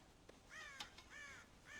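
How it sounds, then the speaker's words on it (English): Crows caw near a grain silo in the Wild West video game Red Dead Redemption, with several harsh calls in a loose rhythm at a moderate distance over faint outdoor ambience, and no voices. "God damn crows!"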